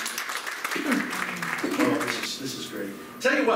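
An audience at a hypnosis show in a library applauds, a broad wash of clapping heard under a voice talking over it, moderately loud and fairly distant.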